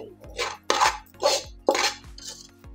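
Rice flour dough for modak is mixed in a pot, making four or five sharp utensil knocks against the pot, spaced about a second apart, with brief scraping in between.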